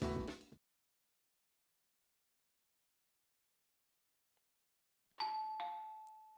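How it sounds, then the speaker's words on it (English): In a video game, after a brief noise burst and a long silence, an electronic two-note doorbell chime rings out clearly, its tones ringing on afterward. "Doorbell rang as I was kicking back in the living room."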